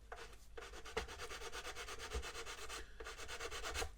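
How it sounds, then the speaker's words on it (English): Sandpaper rubs a plastic model ship hull flush with the plating line in quick, close back-and-forth strokes, quiet and steady, with short pauses between bursts. "I'm basically going to be sanding this so that it's flush with the line of the plating here"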